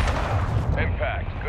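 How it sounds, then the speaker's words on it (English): Heavy explosive blasts and rumbling booms of a cruise missile strike in Call of Duty: Modern Warfare II, a dense continuous barrage with deep low rumble and brief higher crackles, loud and close. "This is Trojan 6-2, cruise missile inbound."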